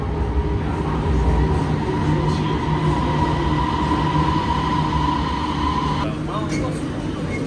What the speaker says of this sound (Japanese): 電車が来ますね。